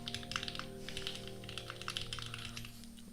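Typing on a KBD67 Lite keyboard fitted with Dojicon switches: rapid, close, continuous key clacks in an uneven rhythm over a faint steady background hum, with no talking.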